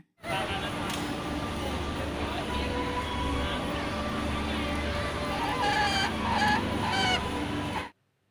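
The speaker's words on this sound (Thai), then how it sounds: "มองเข้าไปลึกๆ ข้างในจะเห็น ไก่สายพันธุ์โปแลนด์นะคะ" Polish breed chickens, the crested kind, clucking in a pen: repeated short clucks and chatter, fairly close, over a steady background, with a voice speaking partly over them.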